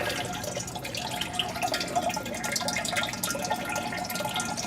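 A small stream of water trickles and drips continuously in an aquaponics system, a close, steady splashing patter with no voices.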